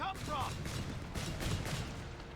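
An anti-tank gun fires in a Company of Heroes 3 2v2 match on Elst Outskirts: a few thumping shots over rumbling battle noise, with someone talking over the gunfire.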